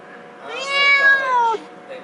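Wensleydale the cat gives one drawn-out, clear meow lasting about a second, close by and loud, with a faint background hiss.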